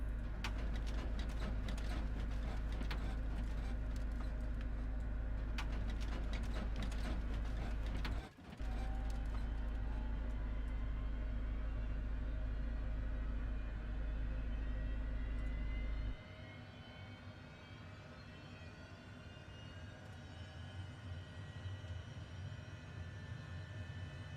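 Twin-engine HondaJet business jet in a flight simulator, engine number two spooling up: a steady loud hum with a low drone, then a rising whine that climbs gradually as the turbine gains speed, no voices.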